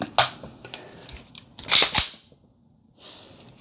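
Sharp metallic clacks of a Sons of Liberty rifle bolt carrier group cycling: a few quick clicks, then a louder back-and-forth slam pair, followed by a faint hiss.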